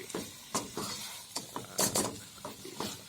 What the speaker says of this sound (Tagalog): tunog ang itlog ni Manoy